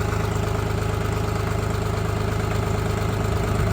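Chinese tractor engine idling at about 1000 rpm, a steady, loud, close diesel rumble with an even pulsing rhythm and no break.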